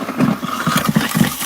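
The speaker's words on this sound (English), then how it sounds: "All right, so the grinder's on." A food waste grinder runs with a steady, coarse mechanical churn and repeated low rhythmic pulses, close and fairly loud, no speech.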